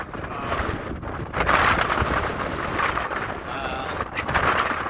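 Strong wind buffeting the microphone on an open hillside hike in Mallorca, a steady roaring gusty rush with louder surges throughout.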